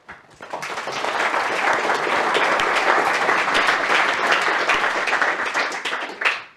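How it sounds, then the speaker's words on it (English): An audience at a lecture on science and religion gives a round of applause, loud, dense clapping that swells quickly, holds steady for several seconds and then fades out. "can you join me in a round of applause?"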